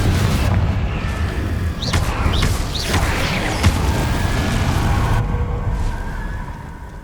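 A fiery explosive spell blast in the Hogwarts Legacy video game, a dense, loud rumbling roar with whooshing swells that sustains for several seconds before slowly fading.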